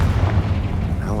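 A Confringo fire spell bursts in an abandoned mine in the Hogwarts Legacy video game, a dense low rumbling boom that rolls on steadily for about a second.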